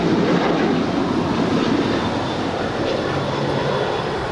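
An Alaska Airlines Boeing 737-800 jet at Los Angeles International Airport gives off a loud, steady roar of engine noise that holds unbroken for a few seconds with no voices.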